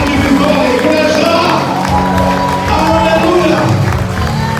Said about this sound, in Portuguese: Libera a Ele um forte aplauso